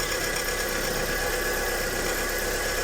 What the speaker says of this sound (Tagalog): Parang nagiba yung andar ng makina niya